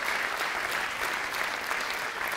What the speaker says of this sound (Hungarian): Tóháti Larának kérnék szépen egy dübörgőn a tapsot az 1140 pontjáért